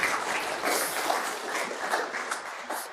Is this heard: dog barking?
no